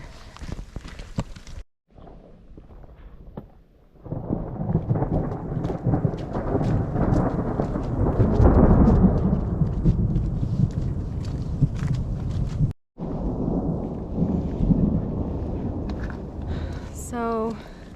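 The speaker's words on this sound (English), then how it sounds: "The thunder is going off," Thunderstorm in the Desolation Wilderness while backpacking, with steady rain and rolling thunder that swells to a loud peak midway, broken by two brief near-silent gaps, and faint voices underneath.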